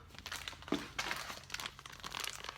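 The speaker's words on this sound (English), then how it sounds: "So anyway, I put these little samples in poly bags." Plastic poly bags holding small scented samples crinkle and rustle in a few close, uneven bursts as they are handled, with no talking.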